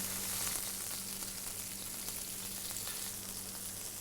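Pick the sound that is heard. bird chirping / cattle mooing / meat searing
meat searing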